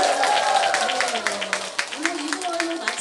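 An audience at a singing class applauds a guest singer, with a dense spatter of hand claps under a voice talking through it.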